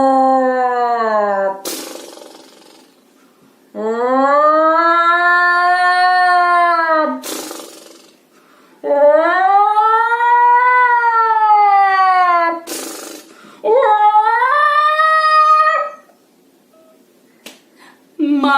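A voice imitates a lion's loud snoring in four long drawn-out snores with rising and falling pitch, each separated by a short quiet pause and sharp breathy snorts.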